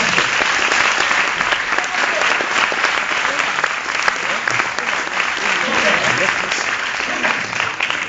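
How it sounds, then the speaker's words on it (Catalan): A theatre audience at a live comedy show claps steadily for several seconds, a dense, even wash of applause filling the room without pause. "Demano un xicotet aplaudiment per al Teatre Miquelet i per a tota la gent del Teatre Miquelet"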